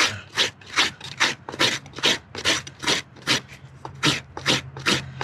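Rasp filed across a horse's hoof during trimming, a close, rhythmic series of about fourteen gritty scraping strokes, evenly spaced with no speech.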